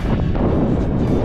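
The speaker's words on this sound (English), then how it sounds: "Getting windy. All right, wind is picking up here." Loud, rumbling wind buffeting the microphone in continuous gusts, a dense low roar with no voices.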